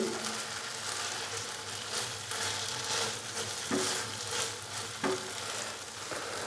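Chicken 65 cooks in a hot pan with a dense, steady sizzle and crackle, and a few soft knocks come from stirring, all close and without any talking.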